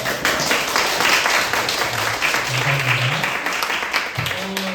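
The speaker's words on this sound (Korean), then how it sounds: "치는 박수니까 크게 치셔도 됩니다" Church congregation clapping loudly at a Sunday service, a dense steady wash of applause filling the room, with faint voices and a few low tones underneath.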